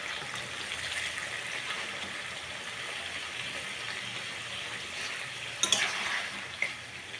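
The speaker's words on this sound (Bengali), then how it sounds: "কম হিট দিয়ে সেটা ভেজে নেব।" Bitter gourd frying gently on low heat, a soft, steady hiss that runs the whole time with a couple of brief louder crackles near the end, no voices.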